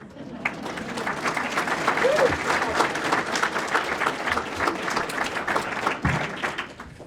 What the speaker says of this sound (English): Look at the person sitting next to you at the table and just clap for them